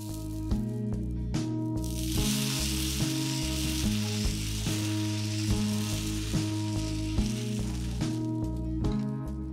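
Black urad dal adai batter sizzles loudly and steadily on a hot dosa griddle, a dense continuous frying hiss with no talk.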